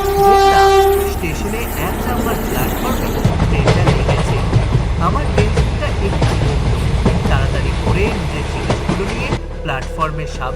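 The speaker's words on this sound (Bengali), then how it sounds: "হঠাৎ করে দূর থেকে ট্রেনের হর্নের শব্দে আমার ঘুমটা ভেঙে গেল।" A train's horn sounds in a long, loud blast, then the train rolls into the station with rumbling wheels and rhythmic clickety-clack over the rails, the noise fading toward the end.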